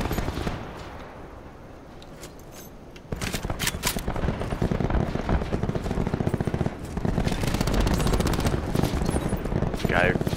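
Rapid automatic gunfire and sharp single shots crackle in Call of Duty Black Ops 4 Blackout, growing dense and continuous after a quieter opening, with players talking over the bursts.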